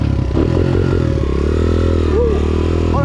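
An off-road motorcycle engine, just kick-started, runs loud and close with a rough, steady idle and a slight rise in revs, while a faint voice-like whine slides briefly above it.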